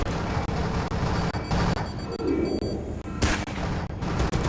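Squad gunfire in The Red Solstice, a series of heavy blasts spread across the moment, layered with dense game noise and rumbling ambience.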